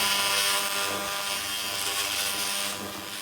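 A 2000W continuous wave laser cleaning a rusty Toyota frame runs at 1500 watts, producing a loud, steady, hissing roar with a whirring tonal hum that holds throughout and eases slightly near the end.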